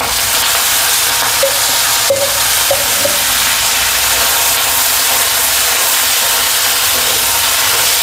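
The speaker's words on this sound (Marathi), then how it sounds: "आता मी एक पळी तेल टाकते" Oil poured into a hot kadhai over roasted green chillies for tomato thecha, giving a loud, steady, close hissing sizzle that fills the whole stretch, with faint clinks and no talking.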